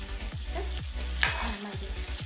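Chicken curry being stirred in a pan after ground garam masala goes in, with a steady sizzle and repeated scraping strokes of the spoon, a sharper clink near the middle, close and moderately loud with no talking.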